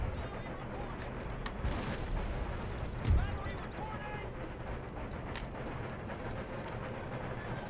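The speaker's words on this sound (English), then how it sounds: "Artillery to hit there, artillery." Artillery booms in the strategy game Empire: Total War during a Russian siege battle, distant rumbling cannon fire with one heavier thump near the middle, over a constant low battlefield din and a speaking voice.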